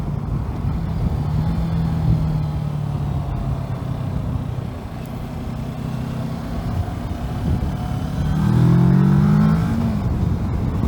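A Kawasaki Versys 650 two-cylinder motorcycle engine drones steadily while riding, mixed with wind rush, then rises in pitch and loudness as it revs up near the end.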